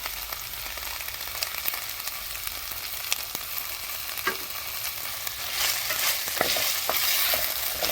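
Tomatoes with mint and coriander frying in a pan, a steady soft sizzle with scattered crackles and occasional stirring scrapes, growing a little louder toward the end.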